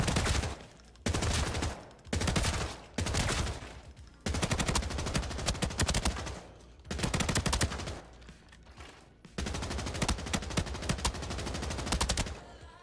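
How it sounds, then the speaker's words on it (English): Automatic fire from an RPK machine gun in Arena Breakout Infinite: several loud, close bursts of rapid shots separated by short pauses across the stretch. "The RPK feels pretty good, guys. I'm not used to the recoil, but the recoil is controllable."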